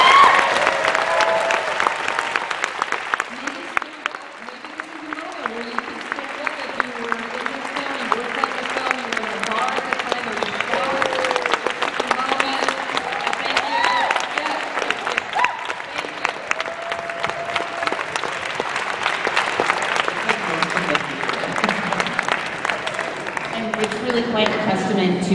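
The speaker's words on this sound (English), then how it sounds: "can we just have a round of applause for all the cast and crew" Sustained applause from a large audience, dense and steady clapping that swells and continues for a long stretch, with a murmur of crowd voices underneath.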